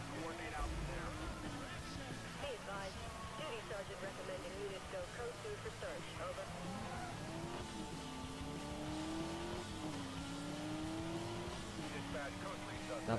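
A car driven slowly in Need For Speed Most Wanted (2012), its engine droning steadily with rising and falling pitch, under someone talking.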